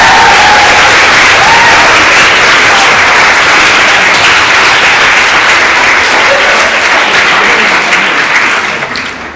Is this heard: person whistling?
no